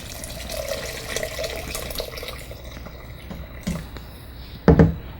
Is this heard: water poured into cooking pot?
yes